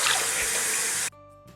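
Water from a bathroom sink tap gushes and splashes loudly as a face is washed, then cuts off abruptly into quiet drips.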